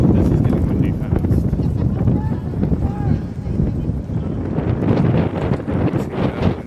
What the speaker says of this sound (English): Let's get that wind for a second.